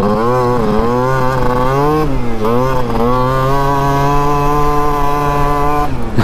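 A small scooter engine revs loudly and steadily up close for several seconds, its buzzing two-stroke-like whine rising and dipping in pitch with throttle blips.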